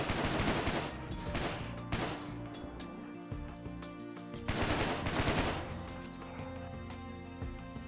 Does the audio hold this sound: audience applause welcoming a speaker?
no